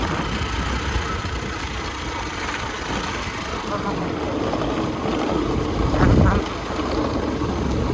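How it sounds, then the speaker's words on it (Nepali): Motorbike engine droning steadily while riding on a hill road in Nepal, a loud rough rumble with wind buffeting, swelling briefly near the end; faint voices mix in. "दुःख भएर चलाउँदैछ बाइक हाम्रो भाइले।"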